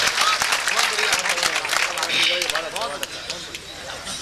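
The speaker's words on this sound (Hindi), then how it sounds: "एक बार जोरदार तालियां उनके सम्मान में।" An audience at a live mushaira poetry show in Patiyali breaks into loud, dense applause, with voices mixed into the crowd noise throughout.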